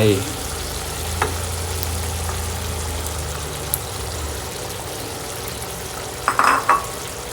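Three eggs frying with cucumber in a pan, a steady close sizzle with occasional spatula scrapes and clinks, a low hum underneath, no voices.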